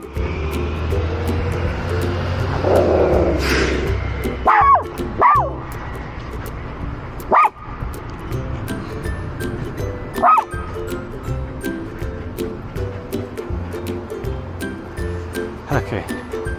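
A dog on a walk along a city street barks sharply several times, loud and close, with yips between them over traffic and a plane droning overhead, while a person talks.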